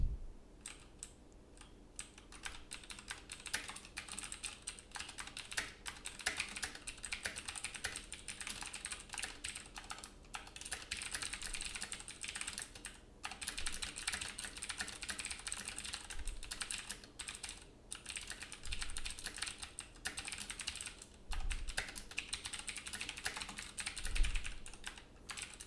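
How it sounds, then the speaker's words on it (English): Steady typing on a computer keyboard while programming, a dense run of quiet close key clicks going on continuously with brief pauses, no voices. "I'm used to typing 2020."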